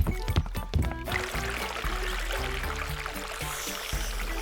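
In a cartoon, natural spring water pours in a brief splashy gush at the start, then gives way to a soft, steady trickle under light music.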